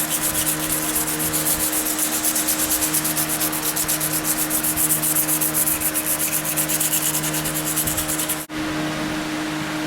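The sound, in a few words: hand sanding a knife handle with 220 grit sandpaper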